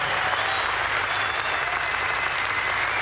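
Dense, sustained applause from a large crowd of golf fans at The Open, a loud, even clatter of clapping that fills the whole stretch.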